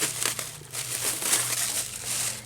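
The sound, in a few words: ripping open fabric packaging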